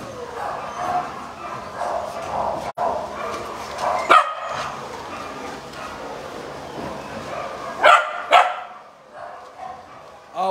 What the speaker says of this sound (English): Check out the pups, guys.